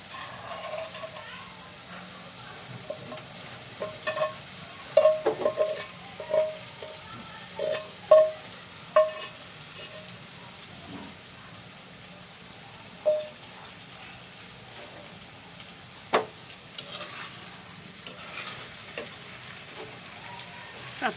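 Taro stolons frying in oil in a pan, a low steady sizzle broken by a run of clear spoon taps and scrapes against the pan, then settling back to quiet frying.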